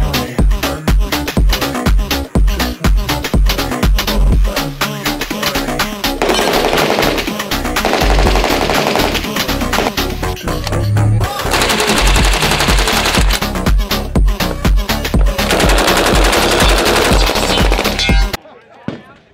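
A BAR automatic rifle fires a full magazine at a ranch shoot, loud and close in long sustained bursts of rapid shots that end abruptly in silence.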